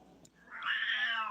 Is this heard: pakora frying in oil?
no